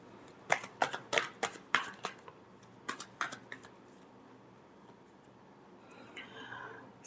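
Tarot cards being shuffled in a series of sharp, crisp riffles and slaps close by, then a quieter stretch with soft rustling and a faint voice toward the end.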